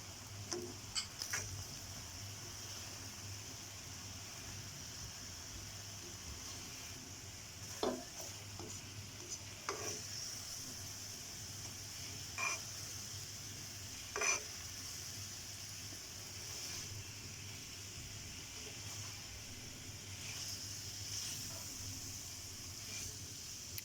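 Raw chicken pieces being tossed and stirred by hand with black pepper powder and chaat masala for a chicken burger, producing faint scattered clicks and soft scraping over a steady low hum, with no talking.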